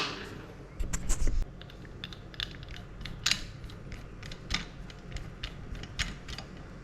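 Machine screws are driven one after another into the base plate of a Bosch router table, giving irregular clicking and ratcheting taps close by, with no talk.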